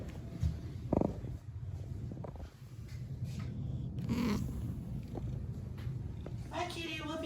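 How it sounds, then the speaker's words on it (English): A house cat purrs softly and steadily up close while a person talks intermittently, with a few brief thumps and shuffles. "You okay, kitty?"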